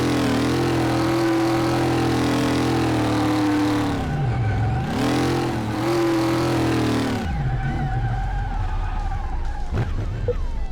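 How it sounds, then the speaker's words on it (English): A Chevy Bel Air in Car Mechanic Simulator 2018 doing burnouts: a loud, sustained engine roar that revs up and down in long swells, then drops to a rougher, lower rumble near the end. "Doing some burnouts."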